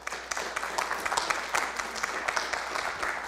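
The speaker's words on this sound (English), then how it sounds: "Everybody, give them a round of applause." Audience applause at a city council meeting for theater arts students, a dense, steady wash of many hands clapping throughout, moderately loud and unbroken.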